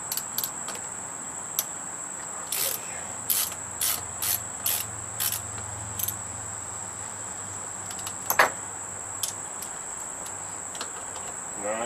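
A ratchet wrench with an 8mm socket loosening tight screws on a Honda EU2200i generator, a run of short clicking ratchet bursts spaced irregularly over a steady high whine, plus a sharper metallic clack near the end.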